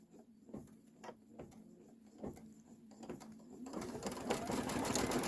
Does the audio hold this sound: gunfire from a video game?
no